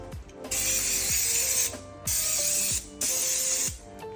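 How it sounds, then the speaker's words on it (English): Brake cleaner sprays onto a car engine in three loud hissing bursts, each about a second long, mixed with clicking and ratcheting from the can's nozzle. "Another thing I do like to do is obviously just get a brake cleaner."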